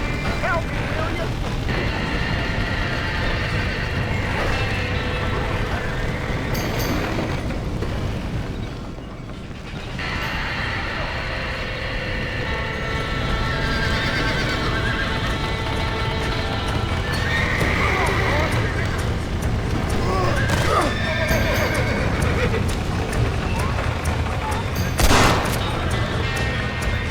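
Horses whinnying and neighing alongside clip-clopping hooves in the Red Dead Redemption video game, loud and continuous over roughly half a minute, with shouting voices and occasional gunfire mixed in.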